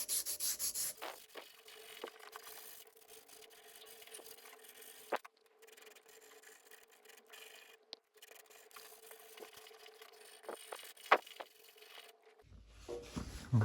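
Tin foil dipped in water and WD-40 is rubbed over rusty parts of an old Moto Guzzi motorcycle rescued from an Italian shed, giving a steady close scratchy scrubbing with a few sharper scrapes and no talk.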